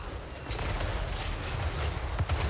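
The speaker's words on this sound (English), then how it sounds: "they are now in range of the deck gunners, who start firing upon the dwarf warriors with great weapons" Deck gunners fire on dwarf warriors in a Total War: Warhammer 3 battle, a dense, continuous rumble of overlapping gunfire with sharper cracks popping through, loud and busy, without speech.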